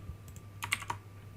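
Computer keyboard typing, a short burst of several quick keystrokes clustered together, close and moderately quiet over a low steady hum, with no talking.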